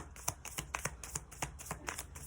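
Tarot cards being shuffled by hand, a quick rhythmic series of soft riffling snaps repeating about every third of a second, close and faint.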